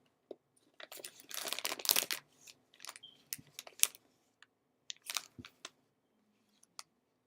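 Someone chews jalapeno-flavored cashews, producing close, crisp crunching bursts in irregular clusters with short quiet gaps between bites, loud at first then tapering into sparse single crunches.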